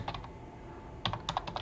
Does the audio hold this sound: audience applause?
no